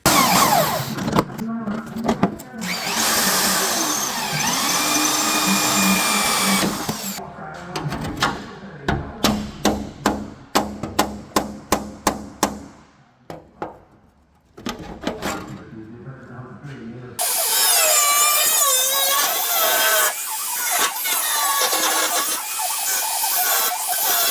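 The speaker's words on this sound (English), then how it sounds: "Using a drill, we drill through the spot welds" A power drill whines loudly and grinds through metal spot welds on a 1968 Shelby Mustang GT500 in long stretches, broken by a run of sharp rapid bursts and brief pauses.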